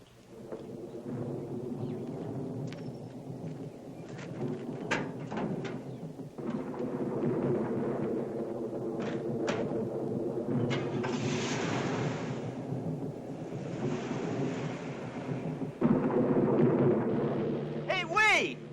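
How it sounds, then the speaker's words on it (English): Thunder from an approaching storm rumbles as a low, sustained roll under scattered voices and wind, with sharper cracks and a swell near the end. "like a storm's coming up"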